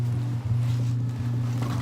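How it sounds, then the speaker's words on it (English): Wind gusts buffet a microphone outdoors in a wintry spot with ice underfoot, a low, rumbling continuous roar with brief dips, loud and close. "it's a little bit windy out here"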